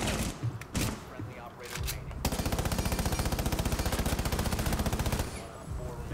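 Sustained rapid automatic fire from Maestro's light machine gun in Rainbow Six Siege, a dense, evenly spaced stream of shots lasting about three seconds, preceded and followed by scattered in-game noises.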